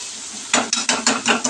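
Chopped onion frying in a pan while it is stirred, giving a close sizzle broken by several quick, rhythmic scraping strokes of a spatula, loud and alone with no talk.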